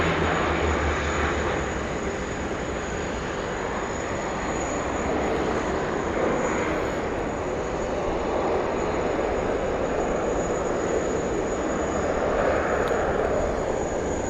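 A Qantas Boeing 787 in special 100-year livery at Sydney Airport gives a steady, loud, broad jet engine roar that fills the whole stretch, with no talking.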